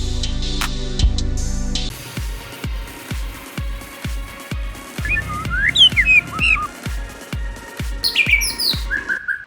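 A white-rumped shama (murai batu) sings loud and close, giving clear rising whistles and quick chirping phrases, with a rhythmic series of short sharp notes in the background.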